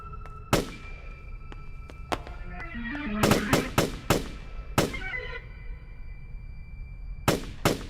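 A prop gun fired during a senior music recital, giving several sharp, loud bangs, some single and some in a quick burst, with metallic ringing tones in between.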